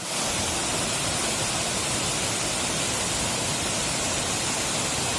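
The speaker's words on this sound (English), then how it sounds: "This is Lank Voku Waterfall." Lank Voku Waterfall in Manja pours with a dense, unbroken roar of falling water, loud and steady throughout, with no voices.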